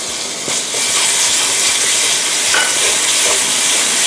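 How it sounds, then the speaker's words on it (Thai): Pounded garlic, pepper, salt and coriander root hit hot oil in a pan, a loud, dense sizzle that swells after the first half second and then hisses steadily with faint crackles, no one talking. "ก็พอน้ำมันร้อนแล้วลงเลยนะครับ"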